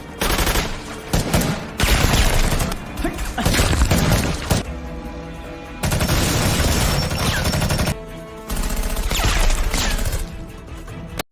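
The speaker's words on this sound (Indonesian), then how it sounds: "Payu kemudian lanjut menembaki yang lain sehingga kerusuhan pun terjadi" Gunfire erupts in a film shootout as Payu fires on the others, loud sustained bursts and crashing impacts broken by brief sudden pauses.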